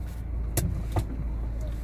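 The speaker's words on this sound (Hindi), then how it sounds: "आप देख सकते हैं कि गाड़ी अपने आप मूव कर रही है। मेरे पैर एक्सीलेटर पे नहीं है, स्टिल गाड़ी हमारी मूव कर रही है।" A Maruti S-Cross automatic hybrid running on CNG creeps forward with no foot on the accelerator, giving a low, steady cabin rumble with two brief sharp knocks and no talk over it.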